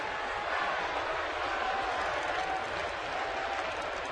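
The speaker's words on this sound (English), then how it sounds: "Oh yeah, clap your hands." A steady, broad wash of crowd noise and clapping in a baseball stadium during a Giants game, continuous and distant, with a broadcaster's voice faintly over it.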